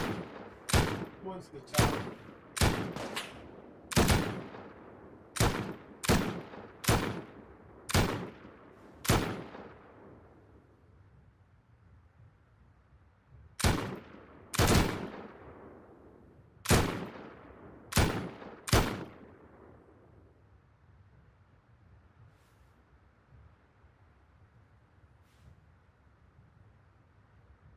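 Gunfire in the survival game Rust: a rapid series of sharp, loud single shots in quick bursts, a pause, then another volley, with a brief voice over the shooting.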